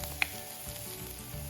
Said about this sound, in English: Saute our onions till they turn lightly golden brown.